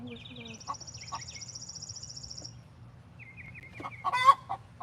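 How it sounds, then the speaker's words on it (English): A backyard chicken clucks and squawks in short repeated bursts, close by, with other bird calls and brief talk around it. "The chicken that's making a noise, she is not the one doing the egg."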